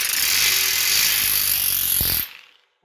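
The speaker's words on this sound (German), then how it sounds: "nehmen wir nur gleich die Schlagbohrmaschine" An impact drill running hard into drywall on a wooden substructure: a loud, steady grinding whir that holds for about two seconds, then winds down and stops abruptly into silence.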